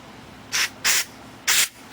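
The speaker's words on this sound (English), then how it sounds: "That's why this canned carburetor cleaner is great. You can blow your ports out with it" Canned carburetor cleaner blasts through a port on a Scrambler 90 carburetor in three short, loud hissing sprays, each lasting a fraction of a second, with brief pauses between them.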